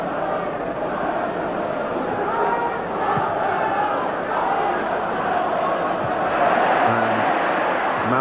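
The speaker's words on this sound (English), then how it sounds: "Mountfield getting a special cheer for climbing above Dixon" Football crowd at an Everton vs Chelsea match in 1986 roaring and cheering after a defender's header, a steady wide wash of voices that swells slightly toward the end, with commentary talk over it.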